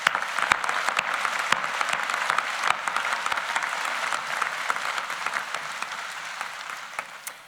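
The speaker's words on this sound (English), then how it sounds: "Please join me in offering them some applause." Audience applause at a Rutgers School of Arts and Sciences convocation ceremony: steady, dense clapping from a large crowd that holds throughout, with a few louder individual claps standing out.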